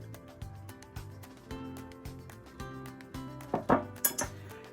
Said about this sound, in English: Now you're gonna place it in the bowl with your apples and your beets.